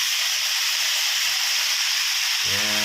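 Yellow noodles hitting a hot pan while stir-frying a fish ball noodle dish, a loud steady hiss and sizzle throughout with a brief low clatter at the end.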